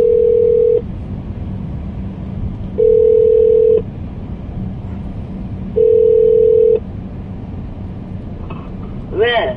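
Telephone busy tone after a dropped call, three steady loud beeps spaced about three seconds apart over a background hum, heard close with a short clink near the end.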